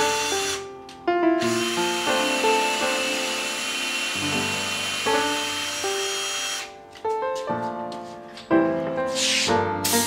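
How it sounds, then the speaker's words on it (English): A cordless drill whirs in several bursts of different lengths, its pitch rising and falling as the trigger is squeezed and released, close by. "A good tap, a good cordless drill"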